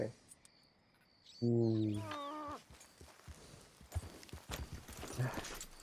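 Horse hooves walk in a PS4 video game, a clip-clop pattern of soft, steady steps that begins after a brief vocal sound, with voices heard around it.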